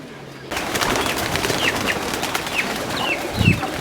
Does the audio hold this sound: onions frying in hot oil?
no